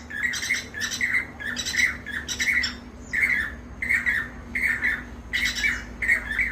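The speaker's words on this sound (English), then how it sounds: "they make two different types of sounds. Can you hear it?" Unidentified birds at a balcony give repeated short, harsh squawks in rhythmic bursts, fairly close and loud, with a low steady hum underneath and no talking.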